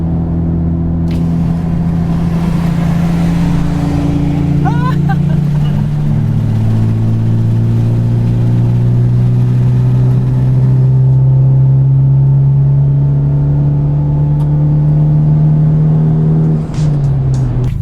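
A car drives along a brand new road, its engine and tyre rumble loud and steady from inside a moving vehicle, with a deep drone that shifts in pitch as it accelerates.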